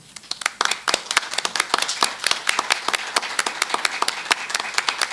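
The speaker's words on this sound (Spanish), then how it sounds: "lo recibimos con un aplauso" Applause from an audience at a panel discussion on constitutional reform, with dense, steady clapping that goes on throughout and has a few sharper claps standing out.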